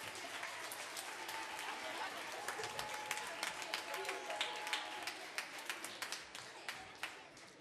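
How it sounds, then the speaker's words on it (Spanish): A studio audience at a quiz show applauds the contestants with a fairly distant, steady patter of clapping, and a few sharper individual claps stand out near the end. "Un aplauso para ellos, por favor."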